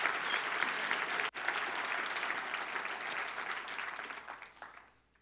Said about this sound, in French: est-ce qu'on peut lui donner une vraie main d'acclamation?